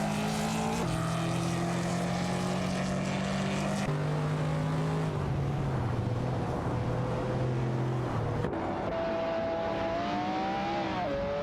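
Video-game race cars, a De Tomaso Pantera J5S and a Lamborghini Diablo VT, duel for position with continuous loud engine drone whose pitch climbs and drops through gear changes, steady and close throughout.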